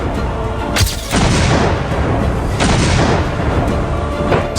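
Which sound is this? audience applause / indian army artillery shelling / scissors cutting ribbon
indian army artillery shelling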